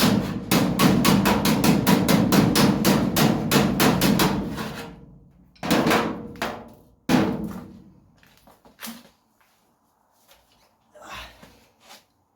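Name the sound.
hammer and dolly shaping car body panels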